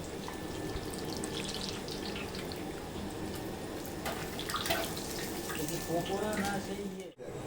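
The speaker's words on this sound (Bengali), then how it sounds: "মাংস কষে গেছে এখন দিয়ে দিচ্ছি জল" Water poured into a pot of mutton being cooked down, heard as a steady close rush and splash with faint kitchen clatter, continuous throughout, ending in a brief knock.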